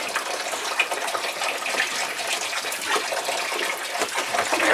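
Water gushing steadily out of an open drain on a boat hull, about five gallons pouring out as a continuous broadband splashing rush, close and fairly loud, with no talk over it.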